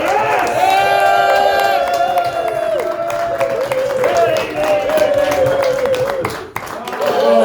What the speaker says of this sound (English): Right, start the clapping. Stomp those feet.